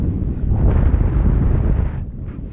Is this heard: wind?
yes